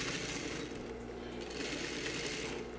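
A sewing machine topstitches a facing to its lining in one continuous, close, steady whir with a constant mechanical hum.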